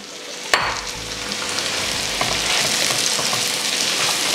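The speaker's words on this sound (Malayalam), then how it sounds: "തക്കാളിയും സവാളയും കൂടെ നന്നായി ഒന്ന് മൂത്ത് വരണം" Sliced tomato and onion frying in a pan for a Kerala sardine roast: a sharp clack as they drop in, then a loud, steady hiss of sizzling that builds and holds close up, with no voices.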